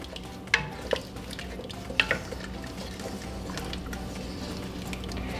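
Binignit mixture with taro being stirred in a pot: soft wet stirring and squishing with a few sharp clicks of the spoon against the pot, fairly quiet and close, no talk.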